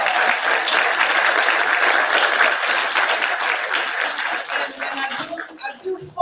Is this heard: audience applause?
yes